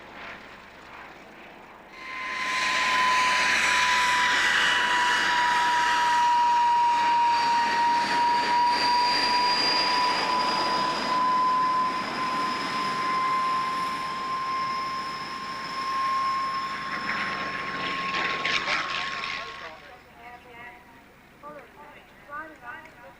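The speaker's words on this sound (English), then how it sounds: "A Fokker triplane had to fend off an SE-5A, a Sopwith triplane, and a Newport" WWI vintage aircraft at an airshow, a Fokker triplane dogfighting an SE-5A and Sopwith triplane, roar swelling loudly after a couple of seconds and holding with a droning whine before fading, while a voice talks over it.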